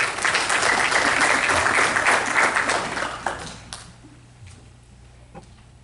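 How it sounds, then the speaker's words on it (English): Audience at a school board of education meeting clapping in a dense burst that fades after about three seconds, leaving a few scattered claps in a quiet room. "Please show your answer by clapping."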